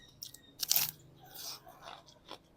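Close, crisp crunching as someone bites into crunchy food, a loud burst of crunches followed by softer chewing, with no talking.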